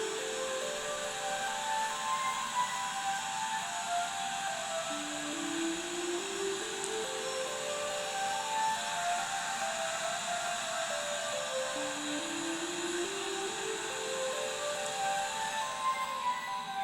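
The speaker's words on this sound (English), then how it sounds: "Every single time my vacuum tries to empty itself, it's like, error." A self-emptying robot vacuum cleaner runs its bin evacuation, a steady loud whirring roar with a tonal motor whine that glides upward twice, continuous throughout with no talking.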